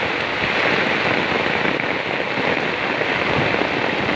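Strong floodwater rushing from an irrigation channel across a road during Typhoon Kristine, a steady dense roar of churning water that stays loud and even for the whole stretch, with no voices.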